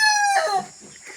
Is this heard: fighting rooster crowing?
yes